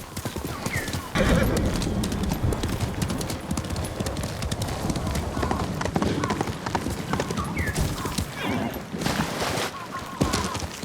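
In the video game Ghost of Tsushima, hooves clip-clop at a steady gallop, with a horse whinnying over the top and a voice speaking.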